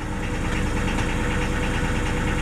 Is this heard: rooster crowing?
no